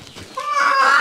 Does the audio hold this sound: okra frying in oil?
no